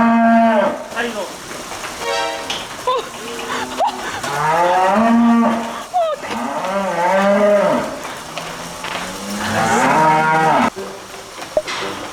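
Calves and cattle moo repeatedly on a snowy rural cattle farm, loud, drawn-out calls rising and falling one after another, close by with no talk over them.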